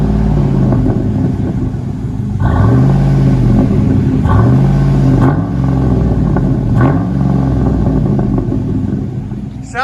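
2007 Chevy Avalanche 5.3L V8 with a Flowmaster Outlaw exhaust idling with a deep rumble, then revved three times in even succession, each rev rising and falling, loud and close, with voices talking over it.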